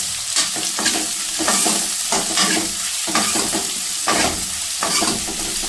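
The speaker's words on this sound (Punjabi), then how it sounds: "ਔਇਲ ਸਾਡਾ ਗਰਮ ਹੋ ਚੁੱਕਾ ਹੁਣ ਅਸੀਂ ਵਿੱਚ ਵਿੱਚ ਪਾਵਾਂਗੇ ਪਿਆਜ਼" Onions frying in hot oil in a pan for a ridge gourd curry, a steady loud sizzle with repeated stirring scrapes throughout, no talk.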